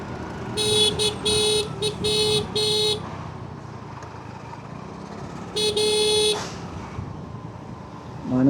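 Town traffic in Mangaon, with a car horn honking in several short bursts over about three seconds, then a second long honk, all over a steady rumble of engines and road noise.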